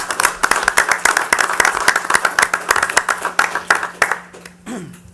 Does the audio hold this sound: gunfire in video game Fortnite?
no